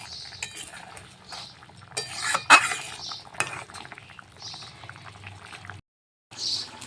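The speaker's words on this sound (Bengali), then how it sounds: "ভাত হয়ে গেল, এখন হচ্ছে মাছের টক।" Fish sour curry bubbles in a pot on a village kitchen fire while a spoon stirs and clinks against the metal. Soft, uneven simmering is broken by sharp utensil knocks and a short silent gap near the end.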